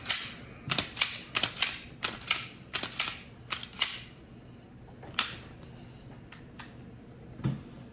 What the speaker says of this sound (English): Racking the gun.